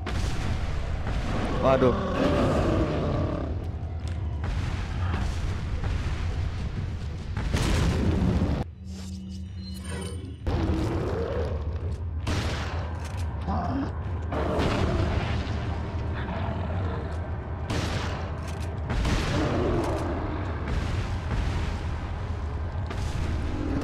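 Bomb blasts and gunfire in the horror game Resident Evil 4, with repeated heavy booms and crashes through most of the stretch, a brief lull in the middle, and a person speaking over the action.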